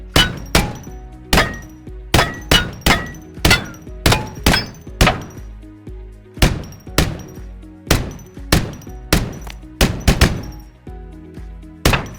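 A Deagle pistol in a Minecraft gun mod fires around twenty loud, punchy shots with short ringing tails, in uneven bursts with a brief pause midway and a rapid flurry near the end.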